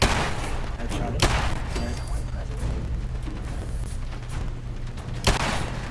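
Modded guns firing in a video game: a dense, continuous rumble of gunfire with two sharp, louder bangs standing out near the start and end, filling the whole stretch.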